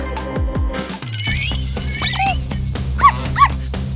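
A dog yips and whimpers in short, high bursts close by, with a couple of sharper yelps near the end.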